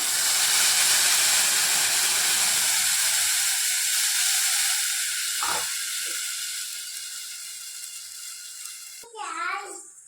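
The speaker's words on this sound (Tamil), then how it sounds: "இப்போ அந்த புளியை வந்து கரைச்சி ஊற்றிக்கலாம்" Tamarind water poured into a simmering Thakkalai-style navra fish kuzhambu makes a loud, steady steamy hiss that gradually fades, followed by a short voice at the very end.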